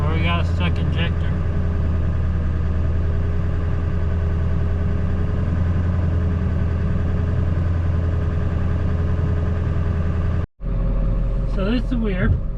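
A truck rig's engine running rough with a stuck injector: a loud, steady low rumble with an uneven idle-like drone, briefly cutting out near the end before resuming.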